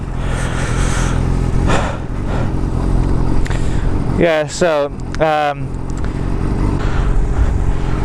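A Yamaha R6 sport motorcycle engine idles while warming up with a steady low rumble throughout, briefly interrupted by someone speaking a few words midway.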